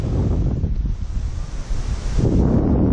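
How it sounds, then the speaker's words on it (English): Strong wind at Lake Moodemere buffets the microphone in heavy, uneven gusts, with lapping water beneath and a brief lull before the blast returns loud. "Every day without fail. Every time I get a day to go fishing, it's windy."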